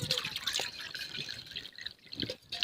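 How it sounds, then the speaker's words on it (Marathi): Quiet trickling and dripping as water is poured from a small bowl into rava vada batter, with soft irregular splashes over a few seconds and no talking. "आता आपण परत ह्याच वाटीने पाणी टाकणार आहोत"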